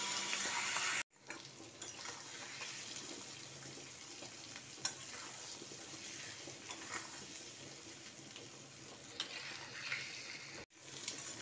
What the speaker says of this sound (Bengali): এবার এটাকে আমি খুব ভালোভাবে নেড়ে নেবো।